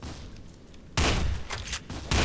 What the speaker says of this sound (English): It's like a silenced shotgun or something. See, like, three shots.